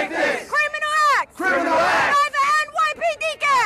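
Crowd at a rally in the Bronx chanting in unison, loud rhythmic shouted phrases with short pauses between them, voices close and forceful.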